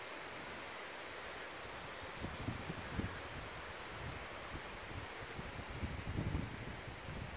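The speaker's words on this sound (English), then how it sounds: "The wind is just starting to pick up a little bit" Wind along the La Cloche Silhouette trail in Killarney Provincial Park, a constant broadband rush with gusts buffeting the microphone and rustling around it, swelling in a few low rumbles.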